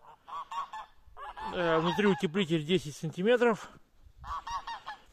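Geese honk in a winter poultry house shared with chickens, turkeys and ducks, a burst of loud nasal honks and cackles close by, rising into a dense chorus mid-clip and returning at the end, while someone talks over them.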